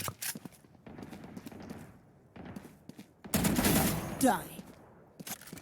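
Automatic weapon bursts in the video game Valorant on the Haven map, several short rapid volleys with gaps between them, mid-distance and fairly loud, with a louder burst near the end.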